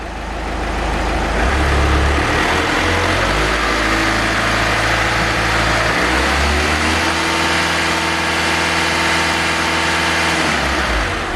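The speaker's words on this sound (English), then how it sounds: "when I rev the car they should obviously" A Skoda Octavia vRS engine revs up close and loud from idle, rising and holding in a steady drone, easing back, then revving again, with no talk.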